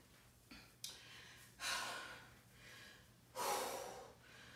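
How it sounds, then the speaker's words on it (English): Heavy, ragged breaths after a round of leg-day exercises: a few sharp gasps followed by two long, loud exhales spaced a second or so apart, close up and with no talking. "So I'm gonna take this minute to catch my breath."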